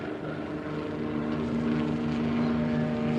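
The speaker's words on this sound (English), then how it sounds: "Army helicopters coming in low," Low-flying army helicopters give a steady, droning rotor and engine hum that builds slightly louder over a few seconds, continuous and fairly distant, with no voices.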